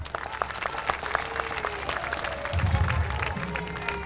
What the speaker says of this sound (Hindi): तो एक बारी छारा गांव के लिए तालियां बजा दो।